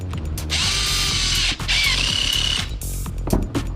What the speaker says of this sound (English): Okay, so clamp the first one.